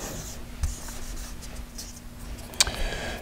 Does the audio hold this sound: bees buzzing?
no